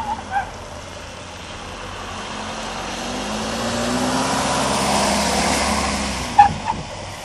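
Motorhomes circle past on an ADAC safety-training course in Augsburg, a broad engine rumble swelling as they approach and easing away, with a short hiss of air brakes near the end.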